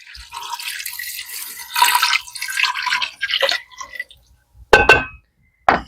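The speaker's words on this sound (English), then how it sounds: "And I'm going to put in 2 cups of water." Two cups of water are poured into a cooking pot for a soup with dried basil, giving a splashing, trickling pour followed by a few sharp clinks of glass or metal, close up with no talk.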